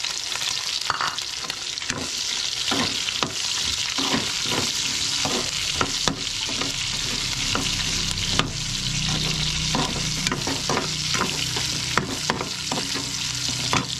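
Garlic and onion fry in fat rendered from pork, crackling steadily while a spatula scrapes and stirs the pan in repeated strokes, close and clear with nobody talking.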